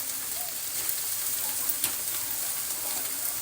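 Eggplant and cabbage hit a hot pan and sizzle loudly, a dense, even crackle of frying that carries steadily throughout with small pops scattered over it.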